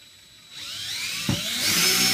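Power drill pre-drilling into a bathroom wall, a close whine that spins up after a quiet start and holds steady with a brief knock partway through.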